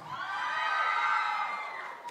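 A concert audience of girls shouts and cheers together at a live Ayacucho music show, a sustained high-pitched collective scream that swells and then fades over about two seconds.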